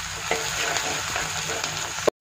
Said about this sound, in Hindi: प्याज को हमें ज़्यादा ब्राउन नहीं करना है, हल्का पिंकिश करना है